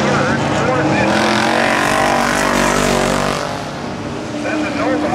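Race cars circling a dirt track at night, engines droning and revving loudly with a pass swelling and fading, a commentator talking over the roar.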